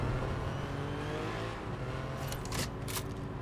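A car driving around the track at Drift Raceway in Fortnite, a steady engine drone with revving and a couple of sharp scraping bursts near the end, continuous and moderately loud.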